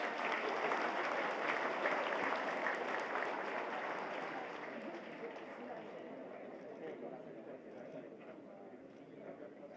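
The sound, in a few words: audience applause at PMA commencement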